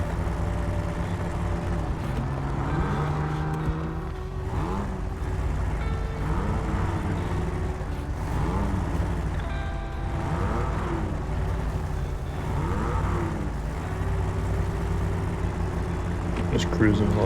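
Jeep Wrangler engine in Snowrunner rolling downhill over big bumps, a steady low drone with shifting revs and occasional surges as the suspension soaks up hits, close and continuous throughout.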